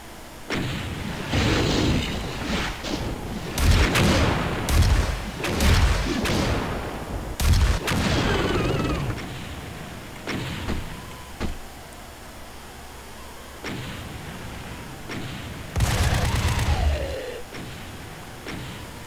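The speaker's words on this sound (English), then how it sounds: "Anytime you hear that exploding sound, it's the zombies." Explosive gunfire from zombie enemies in the video game Doom, a string of loud, sharp blasts clustered in the first half, then sparser bursts with one heavy blast near the end over a steady game background.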